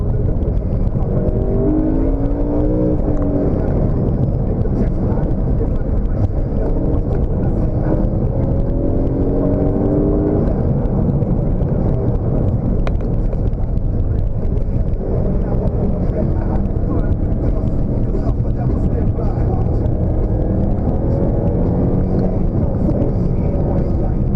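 A BMW M3 accelerating hard and drifting, its engine roaring steadily and loud from inside the car, with a voice talking over the constant drone.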